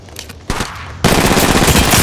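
Gunfire in Apex Legends Mobile: a few sharp shots, then a loud, dense burst of rapid automatic fire that runs on without pause, close and dominant.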